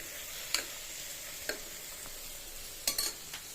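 Food frying lightly in oil for a yogurt gravy gives a soft, steady sizzle, quiet and close, broken by a few sharp clicks of a spoon against the pan.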